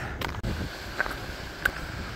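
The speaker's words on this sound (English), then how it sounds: "Snow's coming in sideways. The wind is so strong, it's not accumulating at all." Strong mountain wind at Dolly Sods drives snow sideways, roaring and buffeting against the microphone in a steady, close, low rumble with no pause.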